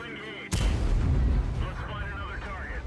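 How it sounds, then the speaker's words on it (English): An SU-100Y tank destroyer fires its 130mm cannon in World of Tanks, one sudden heavy blast followed by a long rumbling roar that slowly fades, while someone talks over it. "let's watch him take on this SU-100Y. 130mm cannon."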